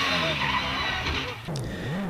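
Nicholson McLaren-powered Gould V8 hillclimb race car at a British speed hillclimb, its engine note sweeping and shifting pitch loudly, with a rising tone near the end.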